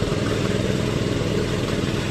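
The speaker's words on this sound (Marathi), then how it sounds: "चालव ना बाय तू ट्रॅक्टर" Tractor engine running in a muddy rice field in a Konkan village, a loud steady low rumble droning continuously up close without breaks.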